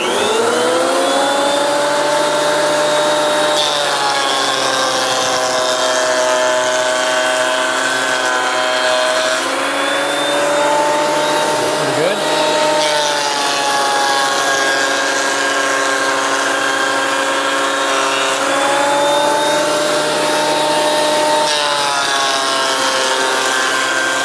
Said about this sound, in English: So let's run this through the planer, and we really only have to run one side through.